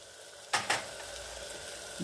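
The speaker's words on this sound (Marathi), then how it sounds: "आता हे छान आपण तेल सुटेपर्यंत याला छान परतून घेऊया." Spice masala of turmeric, black masala and red chilli sautéing in oil for a spicy shev bhaji, a quiet steady sizzle with two short stirring scrapes early on, nearby and without talk.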